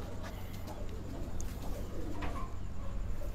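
Pigeons coo softly and repeatedly in a quiet loft, the low throaty calls faint and continuous with a few small chirps and rustles.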